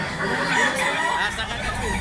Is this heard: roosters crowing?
yes